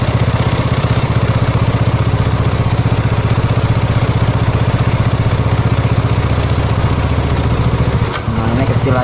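A Yamaha Mio motorcycle with a carburetor idles steadily and loud at close range, its throbbing engine unbroken, with a short clatter and a brief dip near the end as the air screw is adjusted.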